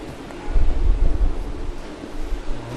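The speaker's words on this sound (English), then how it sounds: "You may hear the wind in the back." Wind noise from a ceiling fan blowing on a microphone indoors, a steady low rumble that swells and buffets for a couple of seconds, with no talking.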